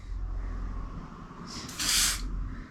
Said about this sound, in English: I want to record you spraying it a little.